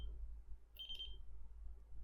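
A RadioMaster radio transmitter gives a short, thin electronic beep when a switch is moved into position, faint over a quiet low hum, with a brief tone at the very start too.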